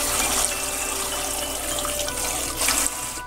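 Rice grains being rinsed by hand in water give a continuous close sloshing, swishing wash with a faint hum beneath and a brief louder splash near the end.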